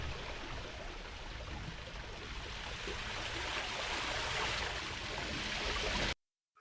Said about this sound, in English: So that waterfall you just see there was Sprodley Alley Brook Waterfall.